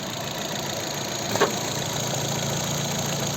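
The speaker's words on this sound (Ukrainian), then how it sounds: "ось робота двигуна" A 2010 Opel Zafira's 1.8-litre petrol engine hums at idle, even and continuous at moderate distance, with a brief faint click partway through.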